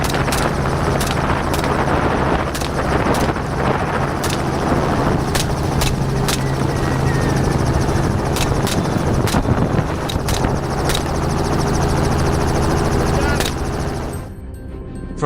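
Helicopter hovering above thick brush, its rotor beating loudly and steadily close by for about fourteen seconds before cutting off, with sharp clicks scattered through the noise.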